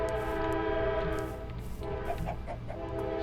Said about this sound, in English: There's a train going by.